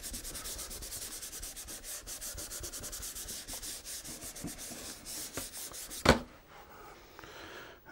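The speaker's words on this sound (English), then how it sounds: "let's just rub that in." Pastel being rubbed into a painting of a rock face, a fast, even run of soft dry scrubbing strokes close by, ending in a single sharp tap before near quiet.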